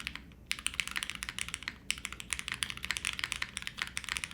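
Rapid, steady clacking of typing on a custom mechanical keyboard with stiff leaf springs, a close, crisp run of keystrokes after a brief pause at the start and a short break partway through.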